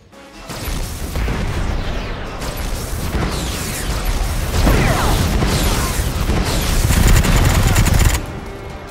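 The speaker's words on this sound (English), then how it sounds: "Reloading." A weapon reloads and fires in the Predator: Hunting Grounds video game, with loud sustained bursts of gunfire, mechanical clicks and booms that fill several seconds before cutting off.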